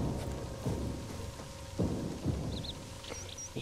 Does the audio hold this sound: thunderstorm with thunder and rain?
yes